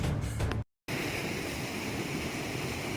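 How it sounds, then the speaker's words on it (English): A waterfall in a snowy winter setting roars as a steady, dense broadband rush, loud and close, briefly cut by a moment of silence before continuing unbroken. "the sound of the waterfall"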